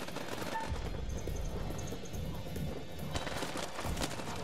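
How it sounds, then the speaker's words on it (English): Gunfire in the video game House of Ashes, rapid bursts of shots and impacts crackling continuously during a firefight, loud and close with a dense, chaotic texture. "Wait, are we shooting now?"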